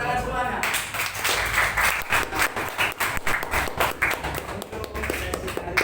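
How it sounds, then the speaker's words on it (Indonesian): An audience at a school orientation claps in a burst of scattered, uneven applause with sharp individual claps, moderately close, and voices murmur underneath throughout. "Tepuk tangan semuanya."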